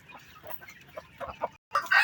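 Newly hatched chicks peeping in soft, quick chirps, along with a few clucks from nearby hens, at close range in a quiet coop.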